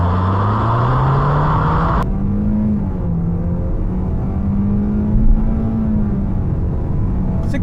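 A 2023 Toyota Corolla LE pulls hard from a standstill toward 60 mph, engine drone rising steadily in pitch through a long continuous run. A brief upshift or lift sits near the start, with loud, constant road and wind noise underneath.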